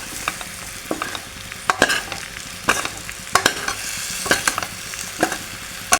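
Mango pickle mixture being stirred in a hot pan, a continuous close sizzle broken by repeated loud scraping strokes of the spoon at an uneven, steady pace, with no voices.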